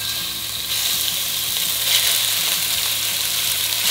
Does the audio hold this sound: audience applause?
no